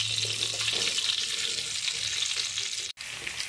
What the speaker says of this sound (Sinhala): තෙල් ටික රත් වෙනකොට අපි කපාගත්තු අල ටික එකතු කරගමු.